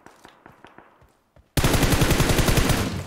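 Automatic gunfire in PUBG Mobile: a few faint, spaced shots, then a sudden loud, sustained burst of rapid, close fire that runs to the end.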